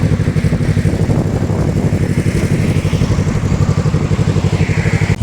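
Yamaha MT-25 motorcycle fitted with an aftermarket header exhaust, idling close and loud with a steady, rapid pulsing throb that stays even throughout.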